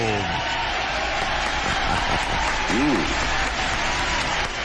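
Crowd applause on a radio show, a steady wash of clapping that holds for several seconds, with a voice speaking briefly over it partway through.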